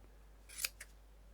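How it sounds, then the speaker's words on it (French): Scissors make two quick snips through fabric while a rag doll is being sewn, the first louder and crisper than the second, close and alone in a quiet room. "vous allez prendre vos ciseaux et vous allez couper."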